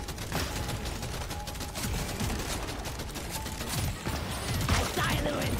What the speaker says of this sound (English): I do like how the gunfire is behind you